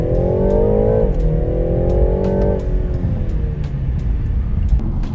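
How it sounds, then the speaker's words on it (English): BMW G20 330i driving, its engine note rising under acceleration, dipping at a shift near one second, then climbing again before easing off into steady cruising noise, loud and close with no talking. "I've driven a G20 330i as well. I have a really quick clip of that car."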